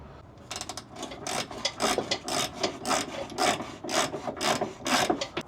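Hand tools tightening bolts on a Hendrickson trailer air-bag suspension: a steady series of rasping ratchet strokes, close and rhythmic, repeating about twice a second with no talking.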